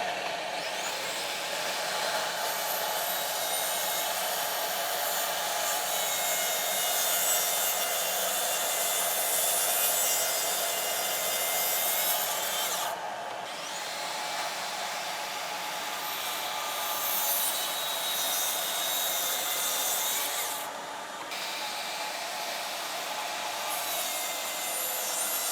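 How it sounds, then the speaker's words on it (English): Track saw ripping wood panels for a hand-tool woodworking bench, a long continuous loud motor roar with two brief dips in tone, with no talking. "So now I'll probably take a track saw and cut these and try it."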